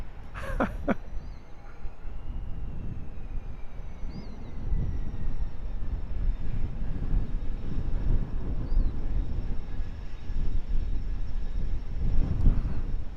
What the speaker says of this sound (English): That's how you stop an aircraft short.